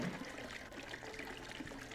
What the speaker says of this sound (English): I dunk my head under the water, closing my eyes as I quickly wet my hair.